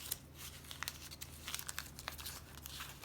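Thick craft paper is handled and crinkled in a quiet room, with soft scattered crackles and rustles in irregular bursts.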